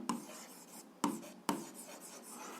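A pen scratches out an algebra equation in a few short, quiet strokes with brief taps, close and soft, with no speech.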